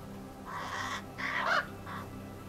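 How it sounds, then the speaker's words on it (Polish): Magpies, ravens and crows gathered at bait near a hide give harsh, raspy calls in three or four loud bursts over a soft background, with short pauses between them. "Sroki, kruki i wrony przybyły w bardzo dużej ilości."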